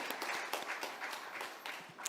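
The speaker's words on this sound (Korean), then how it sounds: "크게 하나님 앞에 영광의 박수를 돌리겠습니다." A church congregation at a Sunday service claps together, quiet and somewhat distant, with individual claps audible in a brief burst of applause.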